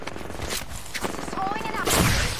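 Gunfire rattles during an Apex Legends battle royale match, with several bursts and impacts over busy game sound and a voice talking over the action.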